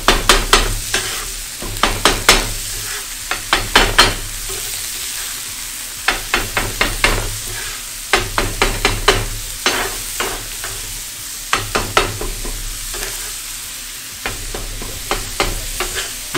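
A metal bench scraper repeatedly chops and scrapes a chopped cheese sandwich filling on a hot griddle, sharp clattering strikes in bursts over a steady sizzle, close and loud with no talking.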